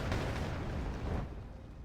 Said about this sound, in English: using their flamethrower to crank it effect. Moving right into the fire and the flames.